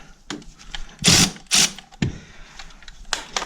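Ratchet tightening bolts during a B16 engine swap: quick clicking pawl bursts and metallic clanks close by, with a few louder rasping pulls, and no talk.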